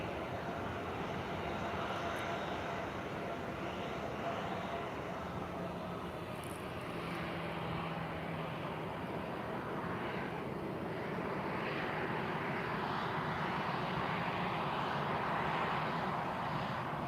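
A Cabo Verde Airlines airliner taking off at Lisbon Airport, a steady broad jet-engine roar at moderate distance holding throughout with no talk.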